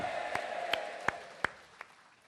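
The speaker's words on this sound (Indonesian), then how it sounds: "Tepuk tangan, kasih suara Bapak Ibu." Scattered claps from an audience at an Indonesian leadership seminar, a few sharp hand claps spaced about every third of a second over a steady room murmur, fairly quiet and thin rather than a full ovation.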